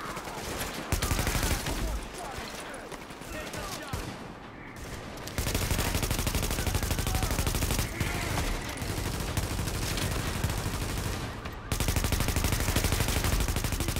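A heavy machine gun fires in the video game The Division, loud, sustained automatic bursts rattling close up with brief pauses between long strings of shots, and a voice speaks faintly underneath.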